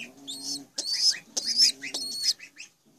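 Young soapy-white pigeon squab making soft, breathy cooing and chirping calls in several short bursts, close and fairly quiet, with no talking.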